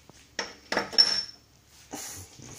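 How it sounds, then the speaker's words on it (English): Metal parts clank and knock during cooker cleaning, four separate close clattering hits with short quiet gaps between them. "cleaning a cooker"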